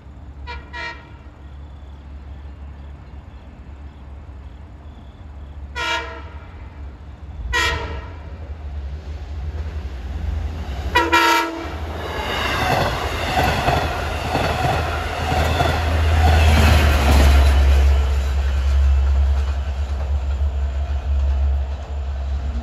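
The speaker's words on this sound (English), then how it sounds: "Approaching is train 45, Speonk to Jamaica. We'll blow past this crossing and the autumn leaves." Long Island Rail Road train 45 from Speonk to Jamaica nears a crossing east of Bay Shore on an autumn day, sounding four loud horn blasts, then roars past close with a growing rumble and rushing wheel noise.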